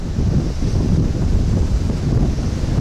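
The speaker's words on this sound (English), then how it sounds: "Oh, you guys hear that wind?" Outdoors in central Tokyo, wind buffets a microphone with a loud, continuous low rumble and roar that stays close and steady for the whole stretch, with no talking.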